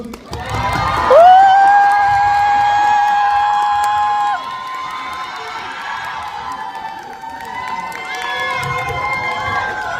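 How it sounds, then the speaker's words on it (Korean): A cinema audience at a film stage greeting claps and cheers loudly as the director and actors come out, with a bright sustained shout rising above the crowd noise before it settles down. "큰 박수 부탁드리겠습니다"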